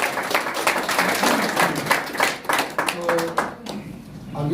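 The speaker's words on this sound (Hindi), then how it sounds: "एक बार जोरदार ताली उठाने वालों के लिए।" Audience applause at a product awareness session, sustained clapping from a crowd that fills the space loudly for several seconds, with voices mixed in and a brief tone near the end.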